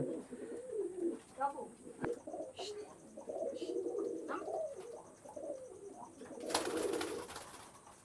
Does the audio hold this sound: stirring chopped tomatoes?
no